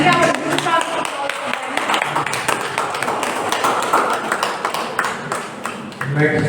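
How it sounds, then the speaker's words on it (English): An indoor audience at a cyber security training session gives a round of applause, with dense, steady clapping mixed with a murmur of voices. "Can we have a good round of applause"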